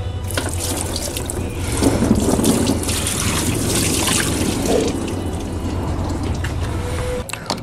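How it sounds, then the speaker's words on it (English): Coolant being topped off into a Dodge 5.7L Hemi engine during a thermostat replacement gives a continuous pouring and gurgling of liquid that runs steadily for about seven seconds, close by, with no talk. "We're gonna go ahead and top off the coolant a little bit."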